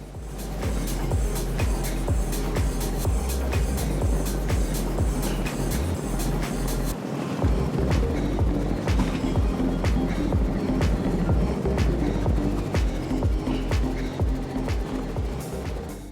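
A motorboat engine drones steadily under a rushing, splashing wash of water, with rhythmic thumps as the hull slams through choppy waves in rough seas off Key West.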